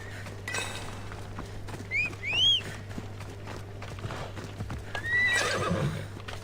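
Horse in Assassin's Creed Odyssey, hooves clip-clopping at a steady pace with several sharp neighs and whinnies rising above a constant low hum, no talking.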